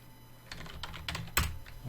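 Computer keyboard typing, a short burst of quick close key clicks with one louder tap near the end, no talk.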